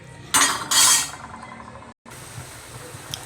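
Metal utensil scraping and clinking against a pot of mung beans and water buffalo meat in two short bursts, then a quieter stretch of faint kitchen noise with a small clink near the end.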